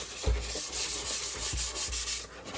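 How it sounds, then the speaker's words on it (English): Hand scuffing of a boom canopy ahead of clear coat gives a steady close-up rubbing and sanding hiss with a few soft thumps from the pad, and no one speaks. "Just give the whole canopy a scuff."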